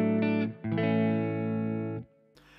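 American Telecaster on a Marshall 50-watt head's clean channel, played through a boost pedal: a few sustained clean chords with a short gap, ringing brightly and then cut off, alone with no talk.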